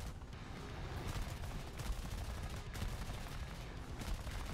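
Rapid bursts of aircraft gunfire in a War Thunder air battle, with dense crackling volleys repeating steadily at moderate loudness throughout.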